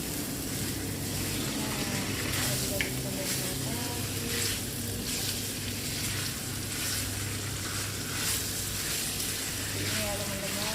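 Fried fish drops into spice paste already cooked dry in hot oil, setting off a loud, steady sizzle and crackle throughout, with stirring noises mixed in.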